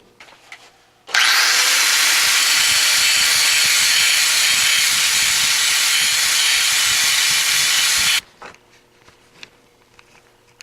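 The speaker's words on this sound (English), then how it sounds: "So I think I'll just take the grinder and flatten them down" An angle grinder flattens down a metal mini bike part in one loud, steady seven-second burst of harsh hissing abrasion, with quiet workshop clatter before and after.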